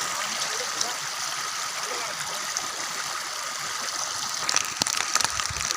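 Steady rush of a stream, the water loud and continuous throughout, with a few sharper splashes and clatters near the end and no voices over it.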